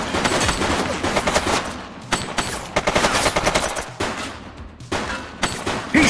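Gunfire in a video game police shootout in The Precinct, bursts of rapid automatic shots and single cracks in quick succession, loud and close with brief pauses between volleys.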